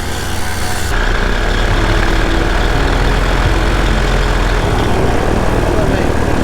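A light aircraft engine runs continuously before takeoff from the east field at an air show, giving a loud, dense, steady drone throughout with no clear speech over it.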